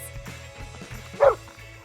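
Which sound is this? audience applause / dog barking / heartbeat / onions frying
dog barking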